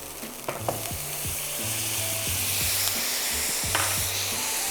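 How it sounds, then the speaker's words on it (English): Coffee poured into a hot pan of browned breakfast sausage for deglazing, a bright continuous sizzle and hiss with scraping and stirring knocks throughout, close and fairly loud. "we're going to deglaze our pan with some of this delicious coffee"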